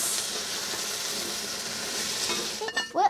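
Steady broadband hiss of chips sizzling in a hot frying pan at a snowy campsite, continuous and fairly loud, with a few clatters near the end.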